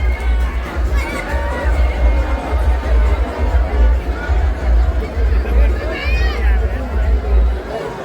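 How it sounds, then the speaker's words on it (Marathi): Festive crowd at the Raibadevi temple fair in Rave village, a dense, continuous roar of chatter and shouting voices with occasional cheers, loud and close all around. "एवढी गर्दी तर आपल्याला कुठेही बघायला भेटणार नाही. एवढी आज आई रायबा देवीच्या चरणाशी हे बघा जल्लोष बघा"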